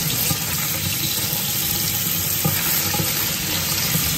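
Running tap water pours steadily over cabbage being washed in a home kitchen sink, a continuous close splashing hiss with no talking.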